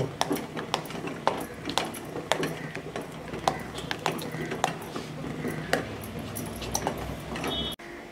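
A spoon clinks and scrapes against a metal pot while neem paste is stirred into melted soap base, the taps coming in an irregular, fairly close rhythm alongside a speaking voice.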